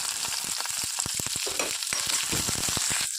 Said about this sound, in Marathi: त्या पॅनमध्ये थोडंसं तेल टाकते. त्यात आपण बारीक चिरलेला लसूण टाकूया.